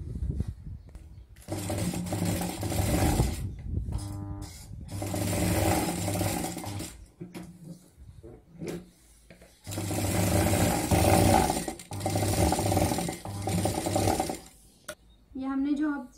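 A sewing machine stitches waste fabric into a handbag at home. It runs in loud, whirring bursts with short pauses between them, and it slows and stops partway through.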